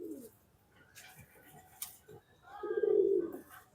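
Pigeons in a loft readied for winter give soft, low cooing, with one fuller, louder coo rising near the end over faint background rustling.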